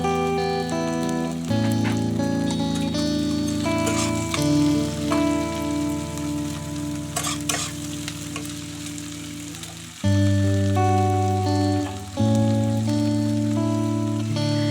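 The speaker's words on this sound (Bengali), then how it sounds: "তেলটা গরম হয়ে এলে দিয়ে দেব কুচানো পেঁয়াজগুলো।" Chopped onions sizzle loudly in hot oil with dried chilli and cardamom for a Bengali chicken curry, a dense continuous crackle up close alongside steady tonal background music, with a sudden loud burst where the onions hit the oil.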